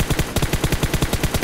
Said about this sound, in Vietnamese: Mình nghe tiếng súng bên này.